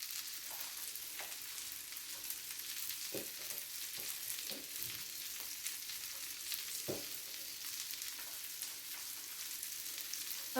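Chopped garlic frying in a pan over medium-high heat, a steady soft sizzle throughout with occasional brief crackles and stirring touches, no talking.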